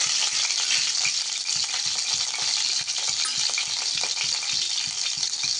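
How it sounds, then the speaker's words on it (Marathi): Cumin and mustard seeds sizzle steadily in hot oil alongside fried eggplant, a dense continuous crackle with rapid small pops and a few spatula scrapes, close and fairly loud throughout. "आता आपण याच्यात जिरे आणि मोहरी टाकून घेणार आहोत।"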